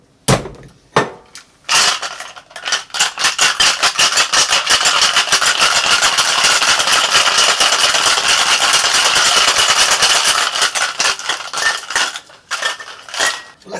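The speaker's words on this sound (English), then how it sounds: "Now that we have all the ingredients in our shaker, let's get some ice. And let's give this bad boy a shake." A cocktail shaker packed with ice is shaken hard and fast, the cubes rattling in a dense, loud, continuous clatter that builds after a few short starting shakes and then tapers off at the end.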